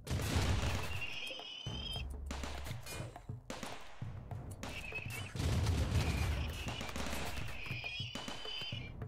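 Automated turret gunfire in RimWorld during a fight with a pack of scyther mechanoids, loud dense bursts of rapid shots running almost without pause, mixed with shrill whining and screeching battle noises, no talking.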